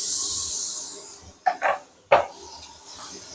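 Spices splutter in hot oil in a pan, giving a hissing sizzle that fades. Two sharp crackling pops follow close together, then a softer sputter trails off.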